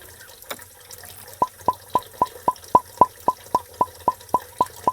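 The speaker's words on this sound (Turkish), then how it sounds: "Su püskürtüyor" A toy fish in a small home pool squirts water in a steady run of about thirteen short, evenly spaced spurts, close and fairly loud over a quiet background.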